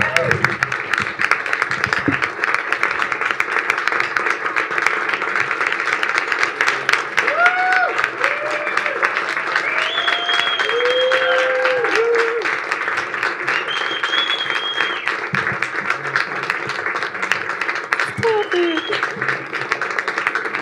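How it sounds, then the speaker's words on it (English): An audience at a panel event in Brisbane applauds, steady dense clapping sustained for about twenty seconds, with a few voices and whoops rising over it. "So let's please give Casey, most of all, a big round of applause."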